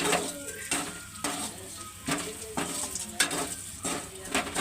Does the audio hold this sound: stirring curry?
yes